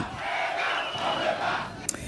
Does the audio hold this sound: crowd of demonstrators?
yes